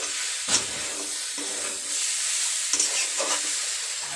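Jackfruit curry frying and being stirred in a pan, a continuous hiss and sizzle with scraping stirring strokes repeating every second or so, no voices.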